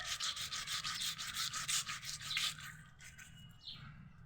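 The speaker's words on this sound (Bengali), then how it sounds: "এভাবে মাছগুলো ঘষে পরিষ্কার করে নেব" Koi fish being rubbed clean by hand, a steady rhythmic scrubbing rasp repeating about every third of a second, close and fairly loud, tapering into softer scrapes and faint chirps near the end.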